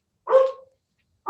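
A single loud, close dog bark out of silence, followed by the start of another bark at the very end.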